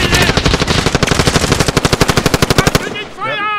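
Rapid automatic gunfire in a video game, a loud close burst of evenly spaced shots lasting nearly three seconds before cutting off into quieter game sounds.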